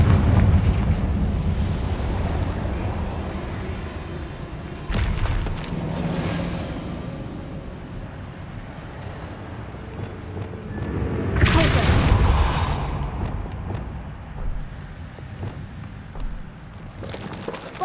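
Confringo blasting spell fired in a video game, a booming explosion around five seconds and a bigger burst near twelve seconds, each rolling into a noisy decay over a dark ambient bed, with a voice speaking between blasts.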